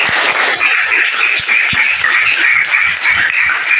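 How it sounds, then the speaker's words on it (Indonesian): A classroom group claps together during an Islamic studies lesson, loud and steady with fast overlapping hand strikes held at an even level from start to end. "tepuk tangan"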